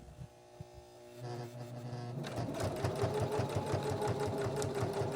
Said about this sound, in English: I'm going to stitch forward just a little bit and then I'm going to back stitch